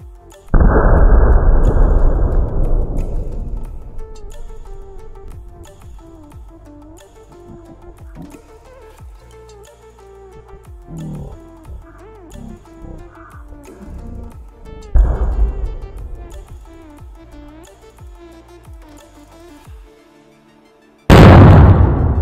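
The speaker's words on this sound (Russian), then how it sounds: "Вот это жесткий был взрыв." A homemade explosive blast launches a cooking pot into the sky, opening with a loud deep boom that fades into a long rumbling decay, followed later by a second, weaker thump and a sudden loud burst at the end.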